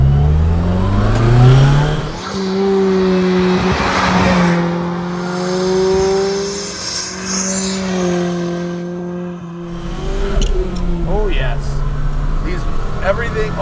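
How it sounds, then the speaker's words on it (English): A turbocharged car accelerates hard from inside the cabin, its engine climbing loudly through the gears with a brief lull at a shift before pulling again. "The turbo sounds. The whistle from epic."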